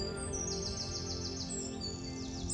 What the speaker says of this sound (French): ce qui est extraordinaire, c'est et le silence et le chant des oiseaux